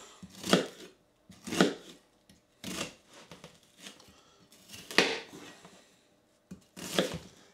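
A sharp knife chops onion into thick pieces for lamb scouse, giving about six crisp, separate thuds on a board at an uneven pace. No one speaks.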